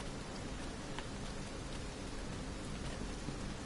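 Rain falling in the Batal desert in Dragon's Dogma 2: a steady, even wash of rainfall with a few faint drop ticks, continuous and fairly soft, with no voices.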